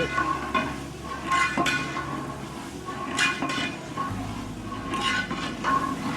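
Mutton being stirred and roasted over a medium flame in a pot for bhuna gosht, with repeated clinks and scrapes of a spoon against the metal over a low sizzle, close by, with some faint talking.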